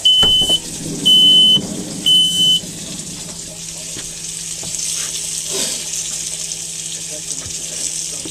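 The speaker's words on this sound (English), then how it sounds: "Smoke alarm goes off." Smoke alarm set off by cooking at a campsite, three short, sharp, loud beeps followed by a steady sizzle of food frying in a pan, with faint background noise.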